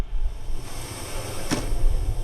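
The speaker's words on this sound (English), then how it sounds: "No, I just like to rattle doorknobs." A doorknob rattles on a locked door in a Halloween radio drama, a short metallic jiggle with one sharp clack over a low steady background hum.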